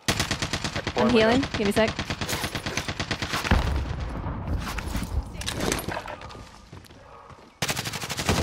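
Rapid bursts of video game gunfire crackle through a tense firefight, loud and repeated, with players talking over much of it and a brief lull before the shooting resumes.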